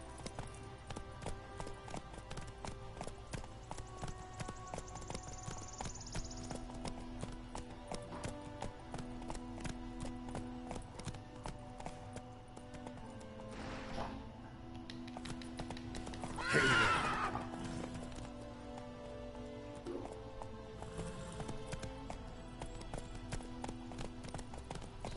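Roach the horse clip-clops steadily at a gallop in a video game, hooves beating on throughout with game music underneath, and a loud whinny rings out midway.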